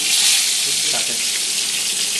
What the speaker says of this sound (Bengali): বেগুন ভাজা পটল ভাজা আলু ভাজা